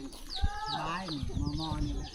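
A chicken near a groundwater well pump in a rural Lao village clucks in short, close repeated calls, with some background voices.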